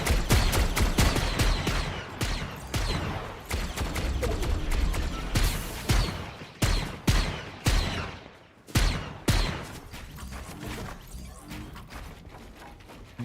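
Gunfire from someone shooting, loud rapid cracks in bursts with dense volleys at first, then spaced single shots and short clusters, alongside some crashing impacts.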